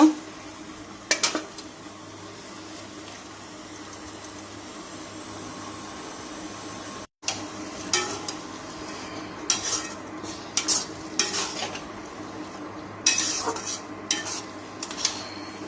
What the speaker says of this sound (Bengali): আলাদা পাত্রে আমি একটু ভেজে নিচ্ছি বাদামটা